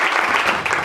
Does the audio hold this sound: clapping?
yes